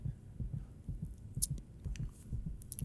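Heartbeat sound effect in the visual novel Tsukihime: a low, soft, steady double thump repeating in a slow rhythm over a faint hum, with a few light clicks.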